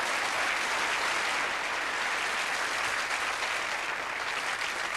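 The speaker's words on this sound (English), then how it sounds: "Let's give him a big round of applause" Steady, full audience applause at a stage hypnosis show, a dense, even roar of many hands clapping that stays at one level throughout, with no voices on top.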